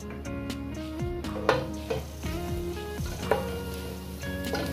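Garlic sizzles in a frying pan with oil, a steady close crackle while music plays underneath; a few louder stirring bursts punctuate the hiss.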